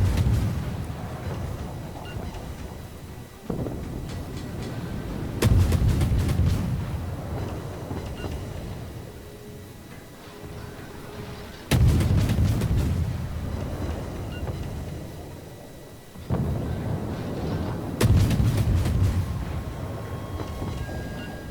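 Naval gunfire in the World of Warships video game: heavy booming salvos strike at intervals of roughly six seconds, each a sharp loud onset followed by a long rumbling decay, over a low engine and sea drone with no talking.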